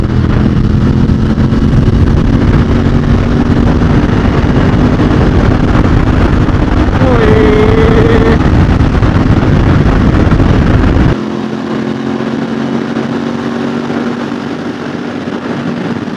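A motorcycle cruises at a steady 70 miles an hour, its engine drone buried in loud, continuous wind roar over the helmet, with a faint rising whine midway and a sudden drop in low rumble near the end.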